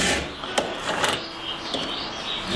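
Repeated rasping strokes of a file sharpening a chainsaw chain, scraping at an even, brisk rhythm close by with no talking.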